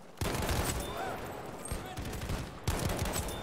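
Shotgun blasts ring out in the shooter game Battlefield V, two heavy booming shots about two and a half seconds apart amid continuous battle noise and scattered gunfire.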